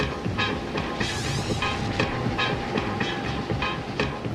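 Airport express train running through a tunnel beneath Hong Kong harbour, a continuous rumble with rhythmic clicks of wheels over rail joints and a brief rising whine, heard alone without voices.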